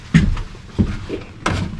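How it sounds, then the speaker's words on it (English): A door inside a skoolie bus is pulled shut, several close, heavy thuds and clunks in quick succession as it closes and latches, no voices. "let me close this door real quick"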